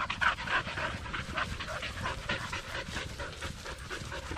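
Several ranch dogs pant rapidly and steadily out in a field while paint horses are being moved, the quick breaths fairly close, with a faint whimper now and then.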